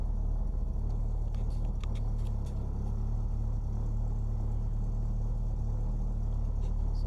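A Porsche 924 engine runs roughly just after starting, following an engine flush with new oil, filters and spark plugs, giving a steady low rumbling idle, close and continuous with no talking.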